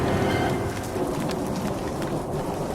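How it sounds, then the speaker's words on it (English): A thunderstorm rolls on with steady heavy rain hissing on surfaces and a low rumble of thunder underneath, loud and continuous throughout. "there was a huge thunderstorm, and it destroyed our school"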